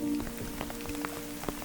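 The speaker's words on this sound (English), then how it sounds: "as you can see, it is raining today" Steady rain falls in the Baishanzu mountains, about 1,400 meters above sea level, with a dense, even patter of drops on surfaces and occasional louder close drips. A faint steady hum runs underneath, and no one speaks.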